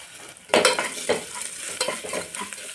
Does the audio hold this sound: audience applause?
no